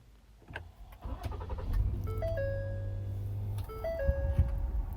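A Ford Explorer is started up again: a brief starter crank catches into a steady idle, joined by electronic dashboard chimes and tones, heard close inside the cabin with no talking.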